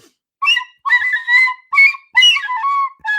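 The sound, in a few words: whistled imitation of a tune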